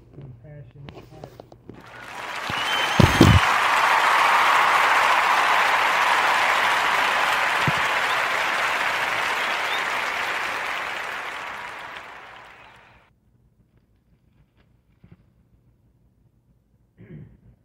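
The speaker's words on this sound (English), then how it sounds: "join me in the giving our sister Chantel Anderson a warm narrative podcast round of applause" A warm round of applause on a podcast, a dense wash of clapping that rises quickly, holds for about ten seconds and fades out, with a few faint thumps before and after.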